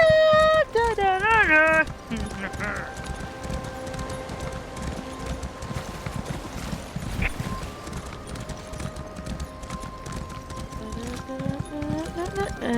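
Horse hooves gallop in a rapid clip-clop rhythm in the video game Elder Scrolls Online, with game tones and someone talking over them.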